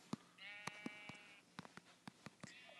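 Sheep bleating in Minecraft, a buzzy harmonic bleat followed by a second rising bleat, with repeated sharp clicks and taps through the clip and no speech.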